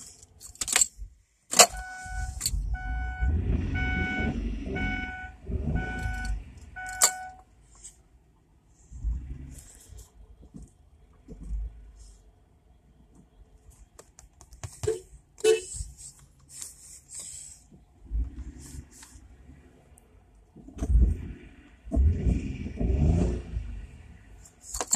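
A 2004 Kia Sorento LX engine runs rough, with uneven surges and bursts of rumbling revs separated by quieter lulls, mixed with nearby jangling keys and clicks.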